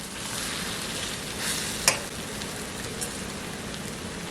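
Migas eggs sizzle and crackle steadily in a hot pan, a close, continuous frying hiss with a single sharp clink partway through and no talking.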